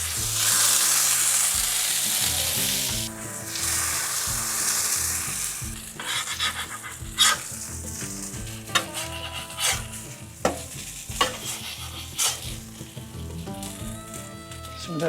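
Birria chuck meat sizzles loudly on a Lone Star Grillz griddle, a steady hiss punctuated by scraping and clinks of a metal spatula.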